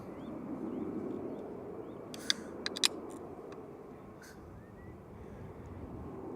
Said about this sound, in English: Aer Lingus Regional coming in now.